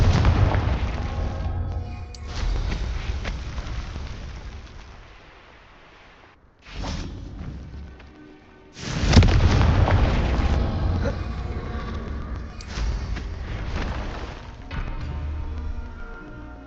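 Confringo fire-spell blasts in Hogwarts Legacy, several loud booming explosions with rumbling, crackling tails that fade between hits, one sharp burst standing out above the rest.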